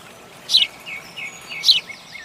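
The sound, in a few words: house sparrow chirping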